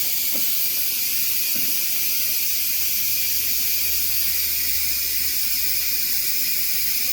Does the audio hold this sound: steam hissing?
yes